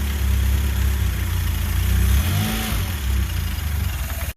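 Close, loud rumble of an old tractor engine idling unevenly with its idle set too low, near stalling, briefly rising and falling in pitch before cutting off abruptly.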